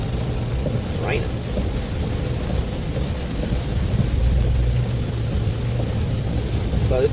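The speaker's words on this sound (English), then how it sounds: "Raining." Steady rain patters throughout with a low rumbling background, constant and fairly loud, with faint voices in the mix.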